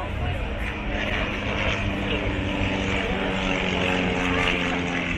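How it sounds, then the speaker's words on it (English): A propeller airplane flies overhead at a concours d'elegance, its steady droning engine roar filling the air at moderate distance and holding constant throughout. "Beautiful airplane."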